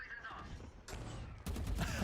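Stray-bullet gunfire during a competitive Valorant match, heard as quick bursts of shots that cut in sharply near the end, loud and close under faint background noise.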